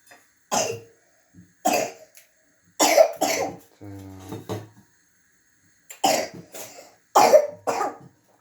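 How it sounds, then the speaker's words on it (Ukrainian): A child coughs in short, harsh bursts, several separate coughs spread across the clip, with a brief throaty wheeze in the middle; close and fairly loud. "Коли вже цей кашель тебе пройде?"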